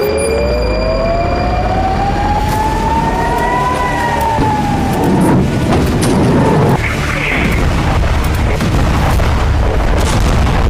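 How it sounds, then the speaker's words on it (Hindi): Rocket strikes over northern Israel: a rising and falling siren wails while heavy booms and rumbling blasts roll in, loud and continuous for about ten seconds. "उत्तरी इजराइल का आसमान रॉकेट प्रहार से दहल उठा।"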